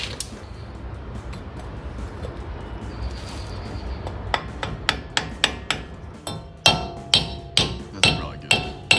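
A hammer tapping a front CV axle into place on a Toyota Tacoma, starting as faint scattered knocks and building into a series of sharp, evenly spaced metallic strikes close up.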